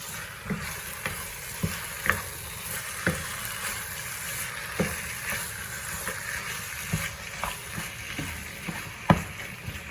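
Mint chicken fry stirred in a hot pan: a steady close sizzle with a dozen or so spoon scrapes and clinks spaced through it, with no voices.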